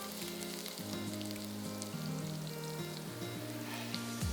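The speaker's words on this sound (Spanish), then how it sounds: "ahora vamos a echar el ajo picado lo primero y vamos a esperar un minutito a que se dore" Chopped garlic sizzles and fries in hot oil in a pan, a steady close crackling hiss with tonal hum underneath, continuous throughout.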